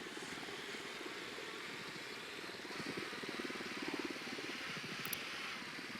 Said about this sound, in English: Drone is up.